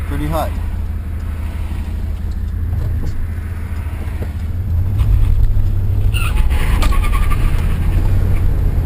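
A turbocharged Pontiac Trans Am engine runs at a steady idle, a loud, rough continuous drone that swells in volume partway through, with someone talking over it.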